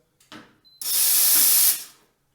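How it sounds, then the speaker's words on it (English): Steam wand on a Bellezza Bellona dual boiler espresso machine bursts into a loud, steady high-pitched hiss for about a second after a short sputter, then cuts off abruptly. "you turn this lever, it will take like 1 second to activate the steam"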